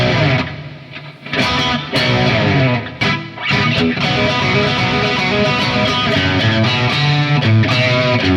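A heavily distorted electric guitar plays a rockin' riff, loud and close, with chugging chords and hammered-on higher notes in a driving rhythm, a brief pause breaking the flow early on.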